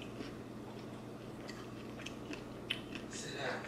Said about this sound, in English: Turkey bacon. You heard that crunch?